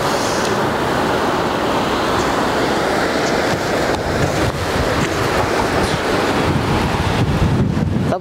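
A clear mountain stream in Japan in autumn pours steadily and close by, a dense, unbroken rush of water that holds at the same level throughout.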